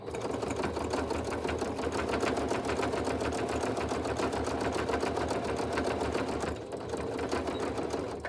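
A sewing machine runs steadily while backstitching a line of zigzag stitching over yarn laid on fabric, a fast, even mechanical whir with rapid needle ticking, close and continuous, pausing briefly near the end.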